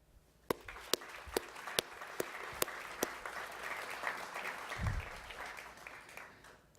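An audience at a business awards ceremony claps steadily, with sharp individual claps standing out near the microphone above a dense spread of applause, heard in a hall for several seconds.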